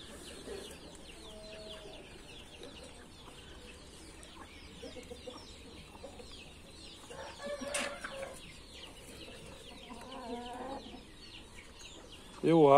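Chickens and young hens cluck near and far in a farmyard, with scattered calls and a louder squawk toward the end, a voice briefly speaking underneath.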